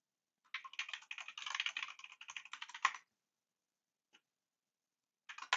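Fast, close keystrokes on a computer keyboard type out a Linux package install command in a quick burst of about two and a half seconds, then a lone tap and a final short flurry.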